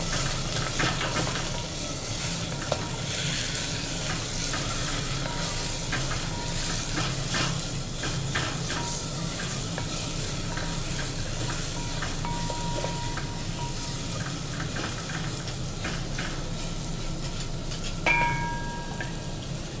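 Khasi goat meat for Dashain being stirred in a pot over slow heat in a hotel kitchen, a continuous sizzle and frying hiss with repeated scraping strokes of the spoon throughout, close and steady, with no voices.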